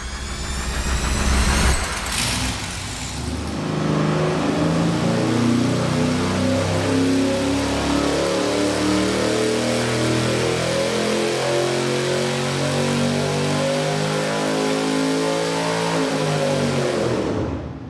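A bone stock V8 engine runs on a dyno, a loud, steady roar that revs up and holds under load for the whole stretch before dropping off at the end, with no talking.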